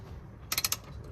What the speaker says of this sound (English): Try to undo all the bolts.